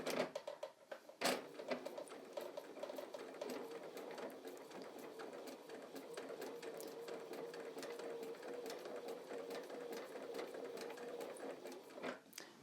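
Sewing machine stitching a long straight line, a steady fast mechanical whirr and rattle running close for over ten seconds, with a few sharp knocks at the start and finish and no speech.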